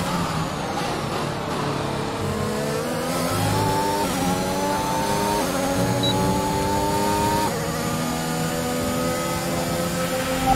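A Formula 1 race car engine in the racing game F1 2021 drones loudly and continuously, its pitch climbing steadily through the gears, with no talk over it.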